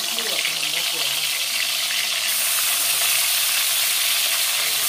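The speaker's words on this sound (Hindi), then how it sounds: "तेल भी हो गया है गरम, अब हम करेंगे उसमें डाल देंगे एक एक मछलियाँ" Pieces of Komolkat fish dropped into hot oil for a fish curry set off a loud, steady, close sizzle that keeps going throughout and grows slightly denser partway through.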